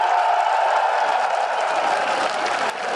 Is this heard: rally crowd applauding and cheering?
yes